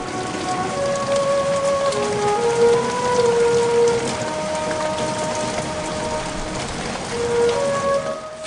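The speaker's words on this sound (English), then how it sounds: "it wouldn't be a garden makeover without a touch of rain" Steady rain falls on a garden at a plant centre, a dense, even hiss of drops that runs the whole time, loud and close, with faint tonal sounds in the background and no speech.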